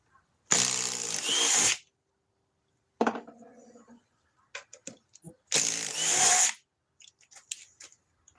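A DeWalt 860 power drill runs in two loud, high-pitched bursts of about a second each, separated by clanks and rattles of the tool and workpiece being handled.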